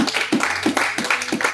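A church congregation claps along in a steady rhythmic pattern during a sermon service, the beats repeating evenly at moderate loudness.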